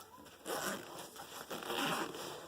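A backpack pocket zipper is pulled open in a few quick, close rasping strokes, with short pauses between pulls.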